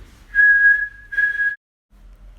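A person whistles two steady, clear notes at the same pitch, the first longer and the second shorter, close and fairly loud in an otherwise quiet room.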